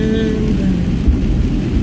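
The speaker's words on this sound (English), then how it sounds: "Rain has been pretty steady" Steady rain falls on a truck during a trip from Springfield, Missouri to Austin, Texas, heard as a loud, even wash with low road rumble beneath it.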